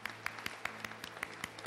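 Church congregation clapping during a worship service, a dense run of hand claps with regular sharp peaks, fairly quiet and steady, with no voices over it.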